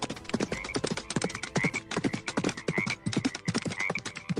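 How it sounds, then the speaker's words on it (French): A horse gallops under moonlight in a rapid, rhythmic patter of hoofbeats while frogs croak intermittently in the background; the hooves stay close and lively with brief pauses between runs. "Au clair de lune, le cheval galopant et les grenouilles chantant."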